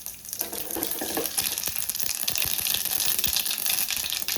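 Tempering seeds sizzling in a small amount of hot oil in a bowl for a curry, a steady close crackle with scattered sharp pops throughout and no speech.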